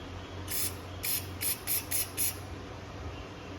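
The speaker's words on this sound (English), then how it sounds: "So now I'm going to take my brake clean and blow the hole out." Brake cleaner blasts out a hole in a 440 stroker engine block, six short sharp hissing spray bursts in a quick, uneven rhythm, close and otherwise quiet.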